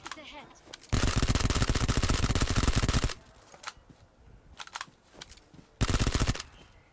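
Video game gunfire comes in long rapid automatic bursts, loud and dense, with shorter sporadic shots between them.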